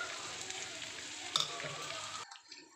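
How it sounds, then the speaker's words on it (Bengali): Chopped onion sizzling and frying in hot oil in a pan, a steady crackling hiss that cuts off abruptly near the end, with no speech. "আগে থেকে পেঁয়াজ কুচি করে রেখেছিলাম ওটাও তেলের মধ্যে দিয়ে দিচ্ছি"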